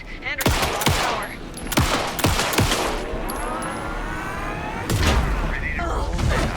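Rapid bursts of gunfire and heavy impacts from the video game Alan Wake 2, loud sharp shots spaced irregularly across the clip over a rumbling game soundscape, with voices talking in between.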